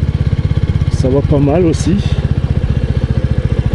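A 2024 Royal Enfield 350 Bullet single-cylinder engine thumps at a slow, even idle pulse close by, with someone speaking briefly over the steady beat.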